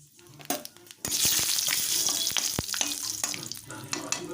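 Bay leaf, cardamom and cinnamon hit hot frying oil and burst into a loud, steady sizzle with crackling pops, following a few softer clinks.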